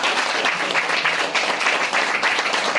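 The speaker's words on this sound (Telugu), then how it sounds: "అమ్మకు ఒకసారి గట్టి క్లాప్ చేద్దాము" An audience at a gathering applauds, a dense, loud patter of many hands clapping together that holds steady for about three seconds.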